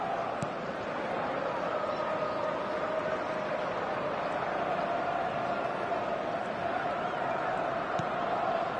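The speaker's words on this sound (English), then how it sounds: "the crowd have tried to spark some excitement, but to no avail" A stadium crowd in an EA Premier League football game makes a steady, even murmur that runs through the whole clip, moderately loud, with no cheering swells and only faint scattered thuds on top.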